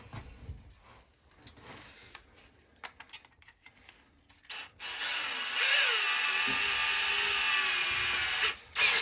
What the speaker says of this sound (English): You're going to end up just drilling out some lead